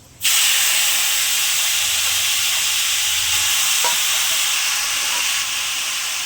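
Boiled elephant apple pieces drop into hot oil seasoned with panch phoron for a pickle, setting off a sudden loud hiss that settles into a steady, close sizzle with no talking.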